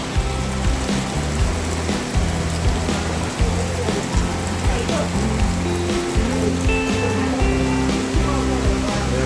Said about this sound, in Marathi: भरपूर पाऊस पडलो, भरपूर म्हणजे खूपच पडलो.